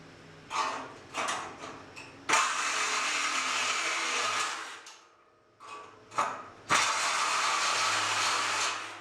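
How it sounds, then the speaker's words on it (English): A Sawzall reciprocating saw cuts off screws on a micro camper frame at night, buzzing in short bursts and then longer harsh runs, close and loud, pausing briefly between cuts before starting up again. "these screws I'm just whacking off one by one with the Sawzall"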